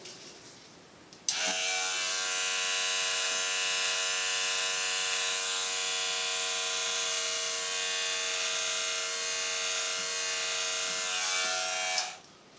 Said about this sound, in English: So I'm just using a beard trimmer.